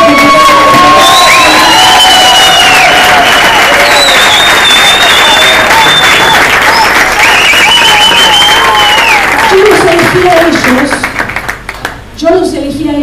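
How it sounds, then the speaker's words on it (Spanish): A loud crowd bursts into strong applause mixed with cheering and shouts. The clapping is sustained and close for about ten seconds, then quickly dies away. "un fuerte aplauso"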